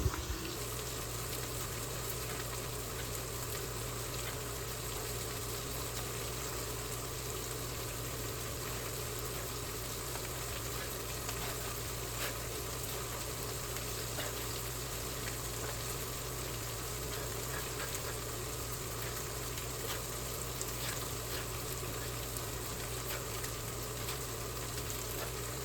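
A thawing steak sears in a hot pan, giving a constant, even hiss over a low steady hum that continues unbroken and without talk.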